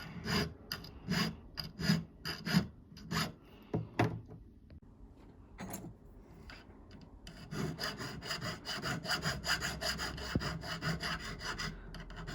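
Rhythmic rasping strokes of a file on silver, a steady back-and-forth scrape close by, speeding into rapid continuous strokes toward the end.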